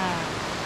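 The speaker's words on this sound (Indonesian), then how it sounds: "kita orang sudah sampai di bawah waterfall Tuba Sewu" Tumpak Sewu waterfall roaring close by as a loud, steady, broadband rush of falling water, filling the whole brief moment.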